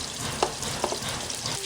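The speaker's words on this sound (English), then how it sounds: "So she'll fry her sausages." Sausages frying in oil in a pan while cooking spaghetti for a large family, giving a steady close sizzle and crackle with a few brief clinks or stirring taps, no speech.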